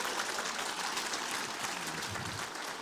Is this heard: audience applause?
yes